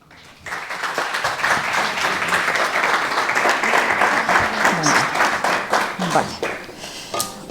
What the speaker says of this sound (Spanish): vamos a recibirla con un aplauso, como siempre